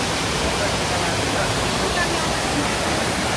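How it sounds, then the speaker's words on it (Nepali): A waterfall pours from above into a pool beneath a huge rock, producing a steady, close roar of rushing water with no break. "यो पानी माथिबाट आएको।"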